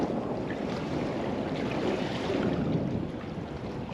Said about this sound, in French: Mais j'ai une rafale, je vais donc attendre.